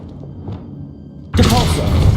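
Hogwarts Legacy Accio summoning spell cast in game, heard as a sudden loud broadband whoosh-and-rumble surge that begins abruptly partway through and sustains, after a quieter stretch of low game ambience.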